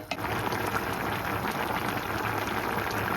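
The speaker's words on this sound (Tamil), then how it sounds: "மட்டன் அவிய அவிய கீழே இறங்கின போது தண்ணி வந்து பெரிய வருது" Jaffna-style mutton curry boils steadily in a pot, a dense continuous bubbling and popping heard close up and fairly loud, with no talk over it.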